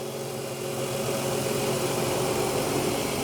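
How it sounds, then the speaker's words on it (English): A 2005 Jeep Liberty Sport with its 3.7-liter V6 idles smoothly and steadily at close range, a continuous even engine hum with no voices. "the Jeep is running nice and smooth"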